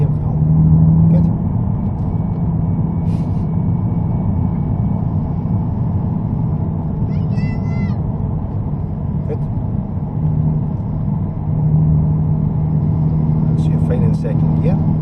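A Nissan GT-R engine drones at light, steady throttle inside the cabin, a constant low rumble with road noise that holds level throughout, with faint brief chirps and clicks over it.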